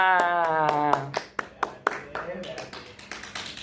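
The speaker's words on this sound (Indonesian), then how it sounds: "Tepuk tangan untuk kita semua." A few hands clapping in a rhythmic pattern at an Indonesian health outreach gathering, sharp separate claps following a speaking voice, loose and scattered rather than a full ovation.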